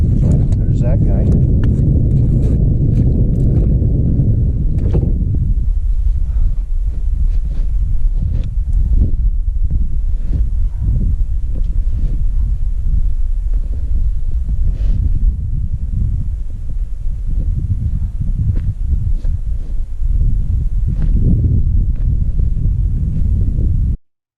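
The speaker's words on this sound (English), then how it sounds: "The wind picked up, and you can't hear anything." Heavy wind buffeting a microphone out on lake ice, a loud, constant low roaring rumble with gusty throbbing swells that drowns out everything else.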